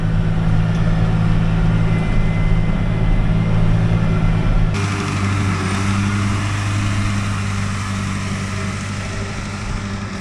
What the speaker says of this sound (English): You can hardly see the mower back there.